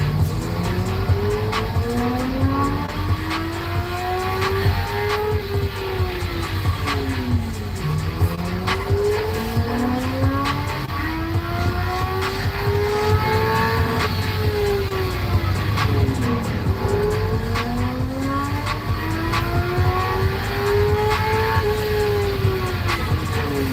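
A car engine revs repeatedly on a dyno, climbing in pitch through each gear pull, dropping, then climbing again in long sweeping runs; loud, close and continuous with no talk.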